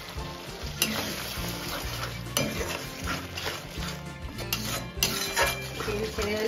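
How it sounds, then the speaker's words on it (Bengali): Spice paste of cumin powder, chili powder and a little sugar frying for a spicy Bengali fish curry, with a close, steady sizzle and repeated scraping stirs and utensil clinks against the pan. "এবার আমি মশলাটা ভালো করে কষিয়ে নেব।"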